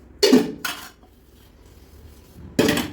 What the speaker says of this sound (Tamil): இந்த மாதிரி விளக்கிட்டு அதுக்கப்புறம் கழுவிக்கணுங்க